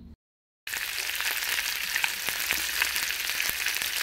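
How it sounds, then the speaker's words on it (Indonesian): Sambal for a potato and quail egg orek sizzles and crackles steadily in hot oil after a brief silence, a dense close frying hiss with small pops and spatters throughout. "saya masak dulu sambalnya"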